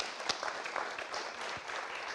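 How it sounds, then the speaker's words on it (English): Audience at a European business and nature summit clapping, a light scattered patter of applause with a couple of sharper individual claps, fairly quiet and steady throughout. "Clap."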